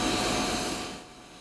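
A China Airlines jet airliner taxis onto the apron at Taoyuan Airport, a steady, loud broadband engine roar that eases off toward the end.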